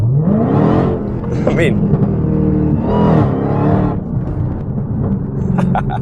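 Dodge Challenger Hellcat fitted with a JLT performance intake, revved hard several times from inside, rising engine roar with loud surges and drops, someone briefly speaking over it.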